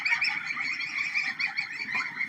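A crowd of goslings peeps and chirps continuously at close range, a dense, overlapping chorus of high calls.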